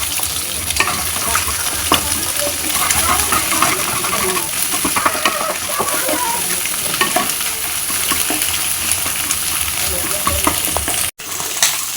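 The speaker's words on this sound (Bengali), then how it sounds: "দিয়ে ভালো করে আমি ডিমটা ভেজে নেব।" Eggs seasoned with black pepper and salt fry in a hot pan, giving a loud, steady sizzle with scraping stir strokes and small clinks throughout, alone without talk.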